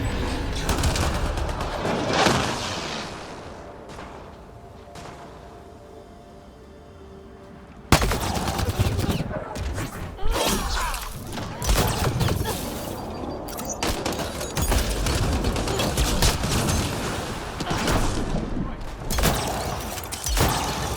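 Rapid bursts of automatic gunfire from a firefight against outlaws in the video game Mass Effect Andromeda, loud and dense after a quieter stretch, with overlapping shots and booms continuing throughout.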